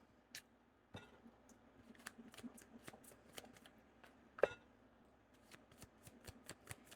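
A tarot card deck being shuffled close up, a series of quiet crisp riffling flicks and taps with one sharper snap midway, no talking.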